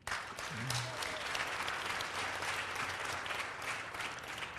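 Audience applause at an association gathering, a full dense roar of many hands clapping steadily and evenly for several seconds, moderately distant and with no speech over it.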